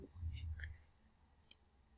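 A single sharp computer mouse click on a link, faint and brief, follows a short low murmur.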